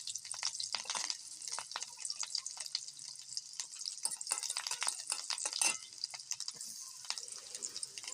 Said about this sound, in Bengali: কড়াইতে তেল গরম করে তাতে কিছু কাঁচা লঙ্কা চিড়ে ভেজে নিচ্ছি।